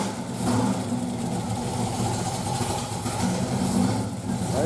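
The engine of a 1965 Plymouth Satellite with a competition cam idles steadily on a cold start, a close, rumbling low drone with an uneven lope.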